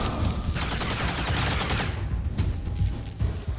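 Sustained suppressing gunfire in the XCOM 2 tactical strategy game, a dense rattling fusillade of rapid shots running continuously near and loud, thinning toward the end with a few sharper separate bursts.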